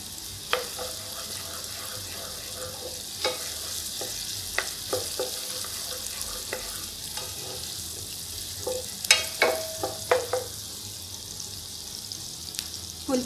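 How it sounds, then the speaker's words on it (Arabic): Fresh ginger fries in a pot for a Saudi chicken kabsa, giving a steady sizzle broken by scattered scraping stirs and clinks of the spoon, which grow busier toward the end. "هنزل بالجنزبيل الفريش، بيدي ريحة حلوة في الأول."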